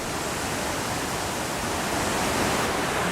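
The Rivière des Usses flows at the bottom of a ravine, a constant broadband rush of water, steady and unbroken, with no voices.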